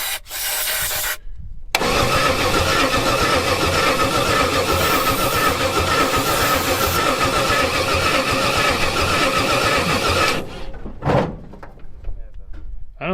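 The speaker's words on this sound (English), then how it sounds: "Ignition and start" An abandoned racecar engine cranks on ignition start, a loud continuous rhythmic starter churn running about nine seconds without catching, then cutting off into quieter clatter and faint voices.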